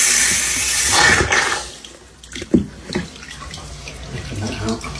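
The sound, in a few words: water flowing from an opened shower mixer tap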